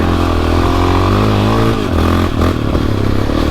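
A motorcycle rides at speed across private property, its engine droning loud and close with rising pitch as it accelerates, then dipping and picking up again amid some clatter and wind.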